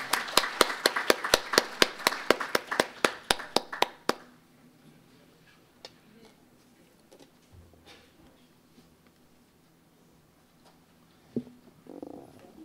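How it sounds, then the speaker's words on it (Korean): At an environmental leaders' forum, a small audience claps for about four seconds in distinct, sharp hand claps to welcome the keynote speaker, followed by a quiet room with only faint shuffles and a soft noise. "박수로 환영하여 주시기 바랍니다"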